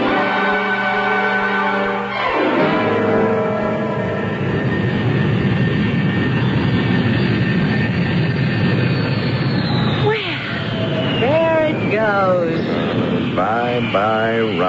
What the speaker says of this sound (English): I had to see that plane in the sky before I'd leave.